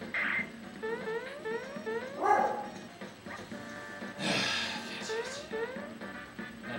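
A cartoonish dog in Super Mario RPG: Legend of the Seven Stars yaps and whimpers in quick, repeated chirpy bursts, moderately loud over game music, with a voice talking over it.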